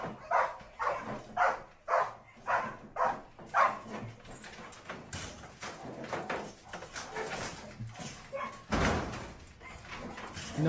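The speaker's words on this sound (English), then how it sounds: "It's a wild dog. You do not want to touch him." A wild dog is heard through a played video, giving a run of evenly spaced, repeated barks followed by scuffling and a louder burst of noise, with a voice faintly present in the background.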